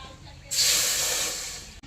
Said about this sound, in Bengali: কড়াইতে এবার জল দিয়ে দেব